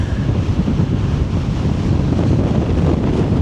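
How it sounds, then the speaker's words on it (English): Strong winter wind in Zion buffets the microphone in a steady, loud roar with gusting swells, no voices present. "Oh, that wind. It's no joke."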